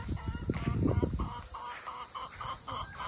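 Several soft, low clucks from chickens, close and fairly quiet, with a steady background hiss.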